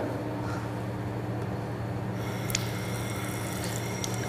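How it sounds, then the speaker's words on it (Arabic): Tap water running steadily while hands are washed for ablution, a continuous soft stream with a low hum underneath and a few light splashes and drips, no talking. "غسل اليدين الى الرزغين ثلاث مرات مع تخليل الاصابع"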